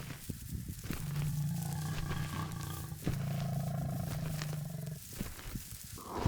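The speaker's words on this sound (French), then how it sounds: "le même rugissement se fit entendre, faible mais aussi net qu'un souvenir" A lion roars in a long, low, rumbling series of drawn-out groans broken by brief pauses, steady and moderately loud at mid distance, with no voices present.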